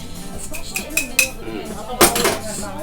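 A pandan-flavored green mixture is stirred in a bowl, a utensil scraping and clinking against the sides in irregular close taps, with a couple of sharper knocks near the end.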